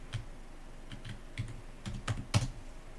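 A handful of crisp keystrokes on a computer keyboard entering a value during a Pthreads benchmarking run, sounding as separate close clicks in irregular small clusters with no talking.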